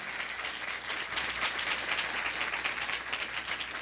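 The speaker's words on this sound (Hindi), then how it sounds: "अरे तालियां बजाए ना मेरे प्रभु के लिए।" A church congregation claps during a Christmas sermon, a sustained, even wash of many hands at moderate distance that swells slightly midway and keeps going, with no voices over it.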